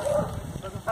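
Puppies being vaccinated give short whimpers and yips, close by, with people talking over the brief cries.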